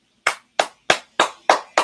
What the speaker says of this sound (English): I'm just applauding that section.